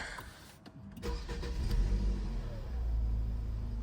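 A Renault Megane 3 with a 2.0 engine and automatic gearbox cranks briefly and starts, then settles into a close, steady idle rumble.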